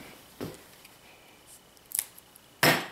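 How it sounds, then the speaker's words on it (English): Scissors snip through tape wrapped around a sewing pin head, giving a few short, crisp cuts spaced apart, close and fairly loud with no talk. "Then I find a pair of scissors"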